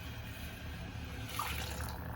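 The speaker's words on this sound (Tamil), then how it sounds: "வாட்டர் சேர்த்துக்கலாம்." Water pours steadily into a cooking pot while tomato kurma is being prepared, a soft continuous running splash close by with no talk.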